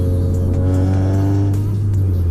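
A four-cylinder car accelerates hard while racing a more powerful, heavier car, its engine droning loud and steady with a harmonic tone that climbs gently throughout.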